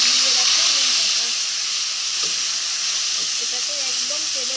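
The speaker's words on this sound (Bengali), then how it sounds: "এটাকে একদম তেলের মধ্যে মশমশা করে সুন্দর করে ভেজে নেব।" Neem leaves crackle and fry crisp in hot oil, a loud, steady hissing sizzle with a few faint stirring clinks.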